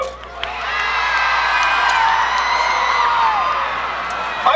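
A 1990 Maryland marching band crowd screams and cheers at a trophy awards event, a loud sustained wall of shrieking and whooping voices, with scattered high cries standing out over the roar.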